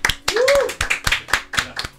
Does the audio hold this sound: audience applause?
yes